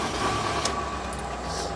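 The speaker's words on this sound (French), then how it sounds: "Alors, je mets le contact, j'allume le moteur" A camper van's engine turning over and settling into a steady idle, a continuous low rumble with a brief higher burst partway through, close by and fairly loud, with no talking.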